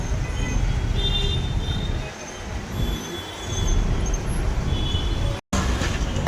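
A train passes close by near a town hall, a loud continuous rumble of wheels on rails with high squealing tones above it throughout.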